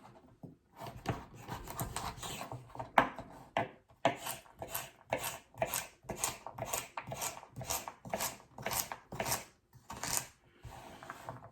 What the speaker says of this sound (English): just sliced carrot like that, or you could cut the carrot in half.